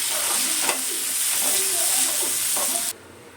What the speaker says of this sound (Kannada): ಒಂದು 3 ಈರುಳ್ಳಿ ಹಾಕ್ಕೊಂಡು ಇದನ್ನು ಕೆಂಪಗಾಗೋ ತನಕ ಫ್ರೈ ಮಾಡ್ಕೊತೀನಿ.